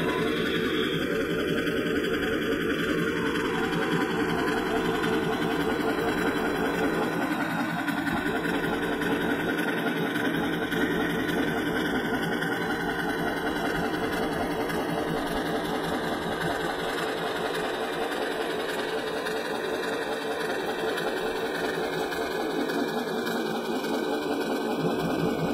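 Sewing machine with a stitch eraser attachment running steadily and close up, a continuous mechanical whir with a fast stitching rhythm that holds level throughout, with no talking.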